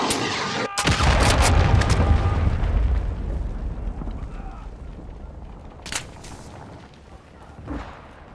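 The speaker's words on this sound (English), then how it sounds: "Friendly cruise missile inbound." A cruise missile strike in Call of Duty Modern Warfare 2 multiplayer lands with a heavy, rumbling boom that rolls on for a couple of seconds and fades, followed by a few sharper distant cracks.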